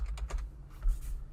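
Someone types on a computer keyboard in a short quick burst of light clicking keystrokes, near and moderately quiet, with no talking.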